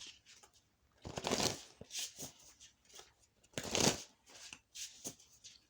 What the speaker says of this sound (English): as far as like the shuffling, the riffle shuffling, it may be, I guess I think it's because I'm doing it on my leg